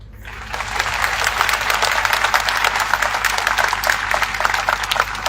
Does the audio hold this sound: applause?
yes